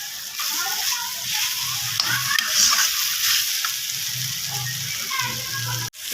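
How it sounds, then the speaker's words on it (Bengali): Soybean chunks stir-fry with spices in a pan, giving a steady close sizzle broken by repeated scraping and stirring strokes, with a brief pause near the end. "মশলার সঙ্গে সয়াবিনটাকে আমি এখন ভালো করে কষিয়ে নিব।"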